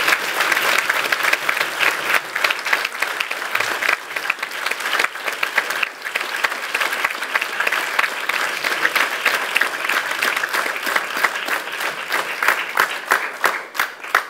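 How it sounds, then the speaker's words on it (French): Sustained audience applause fills the hall at the final of a French parliamentary debate championship, dense and steady throughout without a break. "Applaudissements maintenant, Monsieur Guillaume Rubio, co-responsable de"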